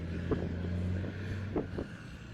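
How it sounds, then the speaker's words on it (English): A loud truck rumbles past close by, a steady low drone with brief swells of engine noise over about two seconds, with no talking. "Sorry guys, loud ass truck, right?"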